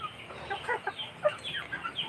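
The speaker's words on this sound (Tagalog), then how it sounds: "Nagpakain ako ng manok." A crowd of hungry chickens clucks and squabbles over scattered feed. Their short, choppy calls overlap in a quick, uneven stream close by, with no talking.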